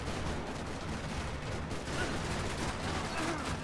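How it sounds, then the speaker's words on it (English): Dense gunfire rattling through a parking lot in the video game Max Payne 3, a continuous loud barrage of overlapping shots filling the whole stretch without a break, no talk. "Another parking lot rattling with gunfire."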